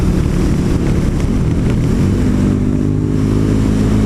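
KTM Super Duke 1290 motorcycle riding in street mode with a smooth slipper clutch, its loud, steady engine drone carrying near and continuous under heavy wind rush, with subtle shifts in pitch as it changes gears.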